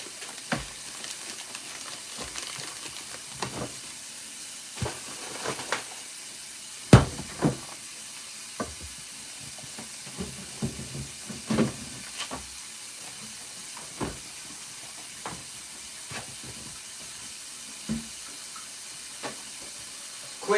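Fresh-made turkey burgers steam in a pan with a splash of water, a soft steady hiss broken by scattered pops and crackles, faint and close with no talking.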